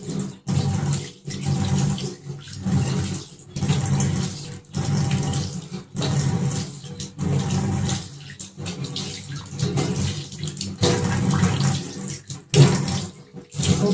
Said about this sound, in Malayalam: കുറച്ച് വെള്ളം എടുക്കുക, അങ്ങോട്ട് എറിഞ്ഞെറിഞ്ഞ് ആ സോപ്പ് കംപ്ലീറ്റ് ആയിട്ട് കളയാൻ നോക്കുക